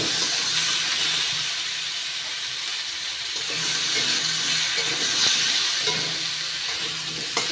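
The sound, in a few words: green and red chillies added to hot pan, sizzling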